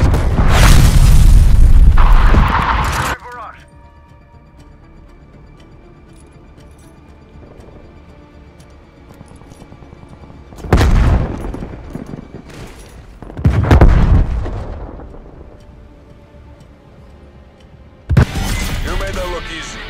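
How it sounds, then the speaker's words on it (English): Artillery shells strike in Call of Duty: Black Ops Cold War as heavy, booming explosions land in separate rumbling bursts, with quiet gaps between them and voices speaking at times. "Artillery inbound."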